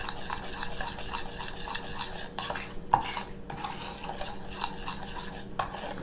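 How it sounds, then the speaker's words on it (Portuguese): A spoon stirs butter, chocolate, sugar and milk together in a pan for a cake topping, with steady close scraping and clinking against the pot and a few sharper knocks, no voices. "A manteiga, o chocolate misturar bem com açúcar, com o leite."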